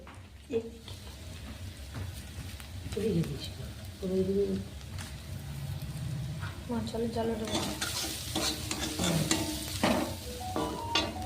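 Onions frying in a pan make a steady sizzle that grows busier toward the end, while pigeons coo repeatedly close by.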